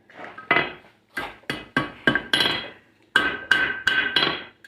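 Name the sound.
hammering hot steel bar over anvil horn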